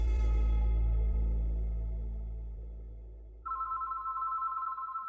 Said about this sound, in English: the phone at Devin and Carrie's apartment began to ring